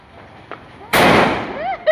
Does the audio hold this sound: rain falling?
no